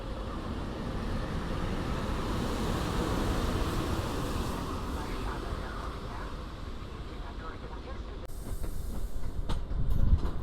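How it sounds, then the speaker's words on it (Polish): An EP08 electric locomotive starts pulling a train away at a busy station, giving a steady low rumble with rail noise that builds slightly toward the end. Speech is faintly present in the background. "EP08009 ściąga jakiś skład i jednocześnie rusza"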